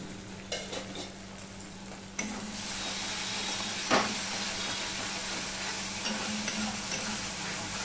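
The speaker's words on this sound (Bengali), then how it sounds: "একটু নেড়ে চেড়ে নিলাম।" Oil sizzles and hisses steadily in a pan while a utensil stirs and scrapes through a thick spice paste with a little sugar, with a few clinks of metal.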